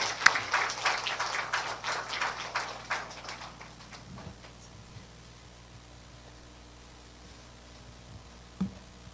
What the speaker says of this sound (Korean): 자, 우리 박수하십시다.